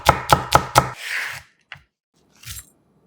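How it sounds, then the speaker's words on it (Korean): A knife cuts Cheongyang chili peppers on a cutting board with four quick, evenly spaced, close knocks, followed by a brief scrape and a few softer taps. "칼칼하게 청양고추 2개는 반을 갈라"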